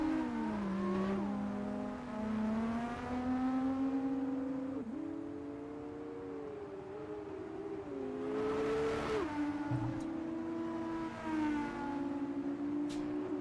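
An F2 race car engine screams on track in a sim racing game, its pitch climbing and dropping through gear shifts as it accelerates and brakes, loud and continuous.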